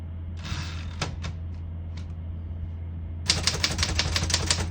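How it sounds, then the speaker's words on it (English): A manual typewriter clacks with a few scattered key strikes, then a fast, rhythmic burst of typing, close and crisp, each key landing cleanly without skipping. "And as you can see, all the keys type nice and none of them skip or stick."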